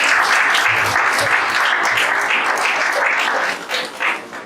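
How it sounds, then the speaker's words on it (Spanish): A church congregation applauds loudly and steadily, a dense sustained wash of clapping that thins and fades toward the end. "Denle el aplauso al Señor"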